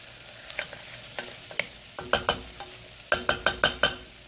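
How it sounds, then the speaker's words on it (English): Mushrooms for baked spaghetti fry in a pan under a soft background sizzle, with a utensil clattering and scraping in bursts, including a quick run of four or five sharp knocks near the end. "We just want to get a little color on those mushrooms."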